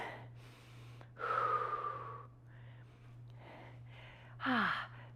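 A deep breath drawn in during a stretching routine in a strength training session, followed by a long audible exhale and another sharp breath, all close and fairly soft over a steady low hum.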